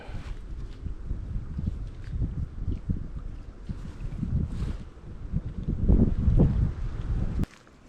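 Gusty wind buffets the microphone at a lakeside fishing spot at Unicoi Lake, a continuous low roar rising and falling, with faint rustles and no talk.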